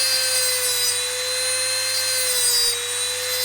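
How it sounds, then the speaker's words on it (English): A high-speed rotary multi-tool cuts into a metal lock pick with a steady, loud, close whine and a gritty, abrasive edge, continuous throughout with no pauses. "You can then use your rotary multi-tool to just cut away quite close to the line, then file down until that line is fully gone."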